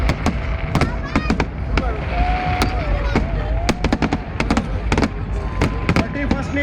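New Year's Eve fireworks at Kankaria lake in Ahmedabad, with sharp bangs and crackling bursts going off in irregular rapid succession amid a noisy crowd, a drawn-out whistling rocket audible midway.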